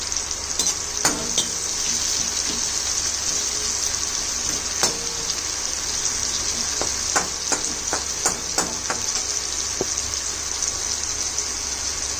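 Chopped spring onion frying in hot oil with a pinch of asafoetida, giving a steady, close sizzle with scattered crackles and pops and no talking.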